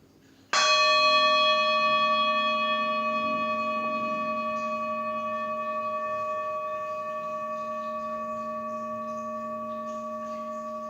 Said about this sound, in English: And now I'll sound the bell